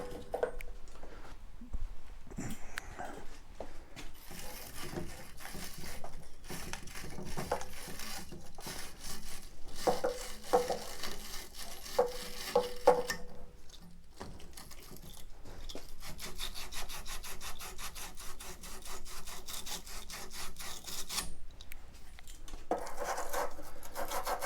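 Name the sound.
deburring cut copper pipe ends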